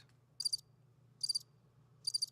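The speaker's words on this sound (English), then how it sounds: "All I hear are crickets out there." Crickets chirp in three evenly spaced short trills over a faint low hum, fairly quiet and isolated, with no voices.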